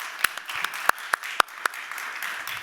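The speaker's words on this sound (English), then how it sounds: "Panel applause." Sparse applause from a conference audience after a panel introduction, a handful of sharp, separate claps standing out over a low murmur of room noise.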